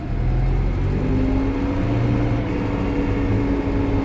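A New Holland T5.140 tractor engine runs near 1500 rpm with the PTO shaft fitted, giving a loud, close, unbroken drone with a steady whir and no voices.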